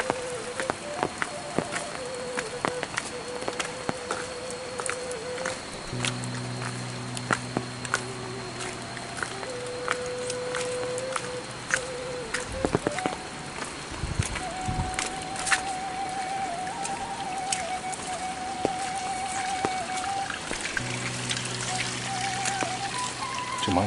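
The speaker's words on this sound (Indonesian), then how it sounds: "hujannya nggak besar, menggerimis doang" Light rain drizzles on a hillside near rice fields as a soft, steady patter and trickle of water, joined by sustained tonal hums and occasional faint clicks.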